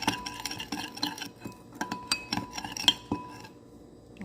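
Zaatar spice blend being stirred in a dish for a chickpea, asparagus and cucumber salad, with steady scraping and clinking of a utensil against the dish, close and moderately loud, no talking.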